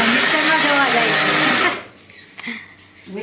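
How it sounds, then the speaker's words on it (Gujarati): An electric mixer grinder whirs loudly, grinding churma for village-style ladoos, for under two seconds before cutting off abruptly, followed by a few faint clinks and light handling sounds. "મિક્સરમાં કાઢું છું જો"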